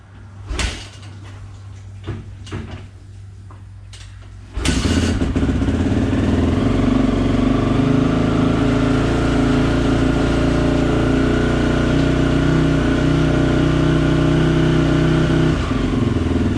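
A Honda CRF450R dirt bike starts after a few clunks and knocks, then settles into a steady, loud, even idle that runs close by for over ten seconds with no voices.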